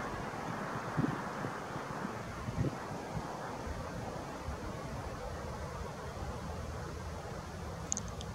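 Wind buffets a camera microphone on a tripod outdoors at night in Kharkiv, producing a continuous low rumbling rush with a few stronger gusts, close and moderately loud, without speech.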